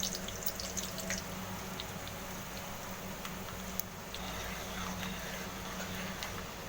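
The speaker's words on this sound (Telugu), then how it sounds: "ఇప్పుడైతే ఆయిల్ బాగా వేడెక్కింది. ఇందులోకి కట్ చేసి పెట్టుకున్న ఆనియన్స్" Chopped onions dropped into well-heated oil in a kadai for mutton curry give a steady, close sizzle with scattered crackles and pops, and no one speaks.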